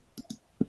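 A computer mouse clicks a login button during a software testing demonstration, three short sharp clicks, close and crisp, the last the loudest, with no talk.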